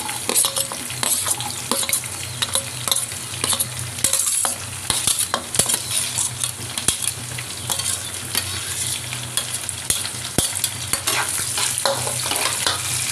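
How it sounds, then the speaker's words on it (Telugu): Onions sizzling in hot oil for a bean curry, stirred with a spoon that scrapes and clinks against the pan at irregular intervals over a steady, close frying hiss. "కొంచెం డార్క్ బ్రౌన్ కలర్ వచ్చే వరకు వేగనిద్దాం"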